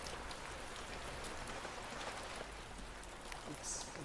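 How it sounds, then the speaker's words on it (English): Steady in-game rain falls in a video game as an even, soft hiss with scattered drop ticks throughout, quiet and continuous with no voice. "Oh, it's raining in game now."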